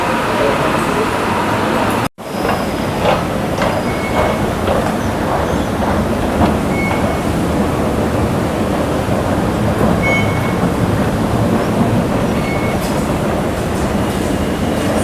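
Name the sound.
Bangkok BTS Skytrain arriving at platform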